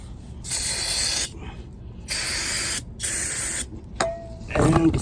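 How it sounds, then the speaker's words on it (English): Several loud hissing bursts of aerosol cleaner sprayed onto a Mercedes W205 differential during an oil change, each a second or so long with short pauses between, followed by a faint clatter. "I'm gonna go ahead and spray this off."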